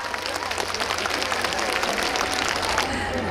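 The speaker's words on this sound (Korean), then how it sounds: "큰 박수 주시면 그거 보내드리겠습니다." Audience applause at an outdoor festival performance at the Geumho River wind-sound trail festival, a steady wash of clapping from a crowd at moderate distance, with some voices mixed in.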